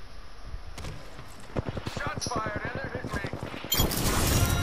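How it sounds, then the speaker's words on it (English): Rapid bursts of automatic gunfire in an online multiplayer shooter match, a fast run of sharp shots under excited voices talking over them. "Shots fired, and they're hitting me."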